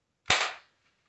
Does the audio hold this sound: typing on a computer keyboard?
no